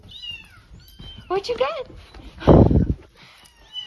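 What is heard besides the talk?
kitten-like meowing squirrel sounds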